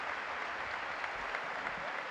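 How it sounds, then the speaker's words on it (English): Crowd applause in an arena at a FIBA Basketball World Cup 2019 Americas qualifier between Paraguay and Argentina, a steady dense wash of clapping throughout with no clear peaks. "There's applause from the crowd."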